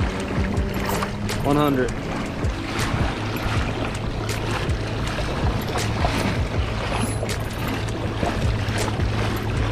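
Small boat driven by a Newport Vessels NK-300 electric trolling motor on open water, with steady water wash and wind noise throughout and a person talking over it.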